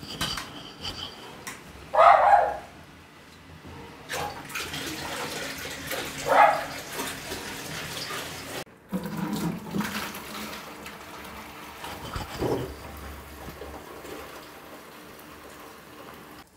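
Water trickles and splashes steadily as an auto top-off system refills a reef aquarium of Acropora corals during maintenance, a broad hiss running throughout with a few brief louder splashes and no talking.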